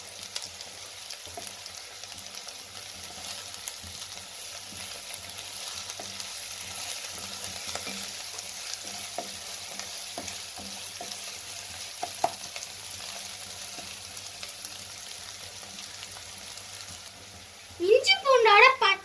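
Green chillies and ginger-garlic paste fry and get stirred in a pan, a steady close sizzle running throughout with occasional scrapes of the spoon, and a brief louder clatter near the end.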